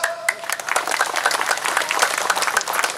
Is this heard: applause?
yes